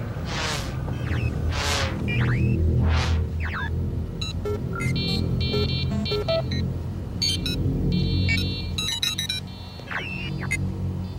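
A vehicle engine rumbling in a 1994 science-fiction TV movie scene, a steady low drone running throughout under sweeping whooshes and a dense mix of electronic beeps and tones.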